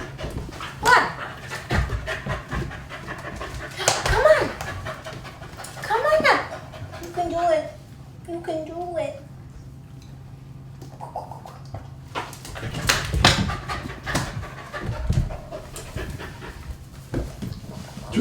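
Two pet dogs pant and whimper close by, with soft breathy panting and occasional high whines scattered through, mixed with people talking and moving around them.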